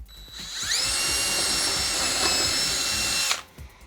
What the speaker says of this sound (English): I'll drill the other holes I need to drill right now